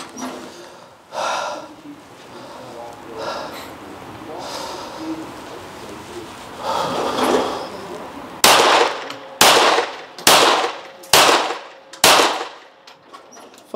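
Pistol shots fired in Swiss-style timed fire at an outdoor range, five sharp, loud reports in quick, fairly even succession at the end, preceded by a stretch of quieter range noise and rustling.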